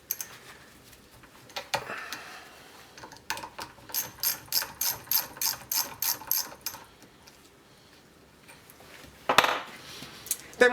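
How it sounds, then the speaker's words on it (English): A 10mm socket ratchet clicks in a quick rhythmic run of about a dozen strokes while removing the headlight motor actuating link of a Lotus Elan M100 held in a vise, close and fairly quiet, with metallic clatter before and after. "take a 10mm socket and remove the actuating link"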